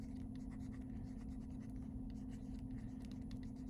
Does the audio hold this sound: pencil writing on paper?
yes